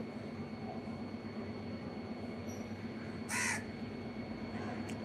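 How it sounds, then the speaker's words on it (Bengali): Crows flying overhead in an outdoor setting, with one brief clear caw partway through and a faint call near the end, over a steady low background hum, no talking. "দেখেছো মাথার উপর দিয়ে পাখি যাচ্ছে দেখো দেখো কত পাখি মাথার উপর দিয়ে"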